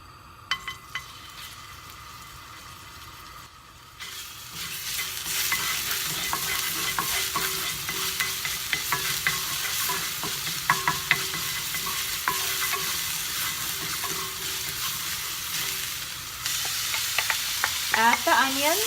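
Garlic sizzling in hot grapeseed oil, starting quiet and then bursting into a loud, continuous close-up frying hiss with crackles and stirring scrapes that builds toward the end.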